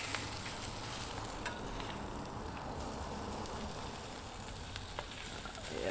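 Eggs frying on a hot griddle for breakfast tacos, a steady soft sizzle running throughout with a few faint clicks and scrapes, no talking.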